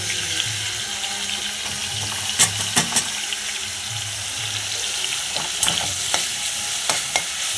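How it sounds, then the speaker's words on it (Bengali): Leafy greens dropped into hot oil give a soft steady sizzle, broken by a few sharp utensil clicks and scrapes close by, with no talk. "তেলটাকে গরম করে নিলাম, নেওয়ার পর আমি ডিমের শাকগুলোকে দিয়ে দেবো।"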